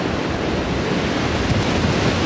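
Strong wind blowing outdoors on a farm where goats graze, a loud, steady, rushing roar of gusts buffeting the microphone, with no voices.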